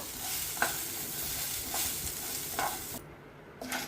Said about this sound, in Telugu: కొద్దిగా జీలకర్ర కూడా వేయిస్తున్నాను, అలాగే పచ్చి కొబ్బరి, పచ్చిమిర్చి, అల్లము అన్నీ ఒకసారి వేయిస్తున్నాను